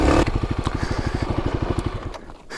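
A 2021 Kawasaki KLX300 dirt bike engine labours loud and close as it climbs a steep off-road hill. A steady pulsing throb runs throughout, with a brief sharper burst at the start.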